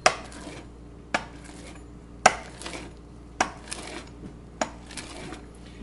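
A utensil cuts through a cooked egg in a pan while Pad Thai is being made, giving about six sharp scraping clicks at an uneven pace, close and clear against a quiet kitchen.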